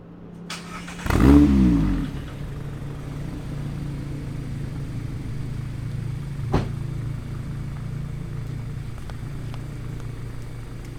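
A Mazda Miata ND with a GWR exhaust insert starts with a sharp crank and catch, flares up in a brief rev, then settles into a steady, close low idle with one faint click partway through.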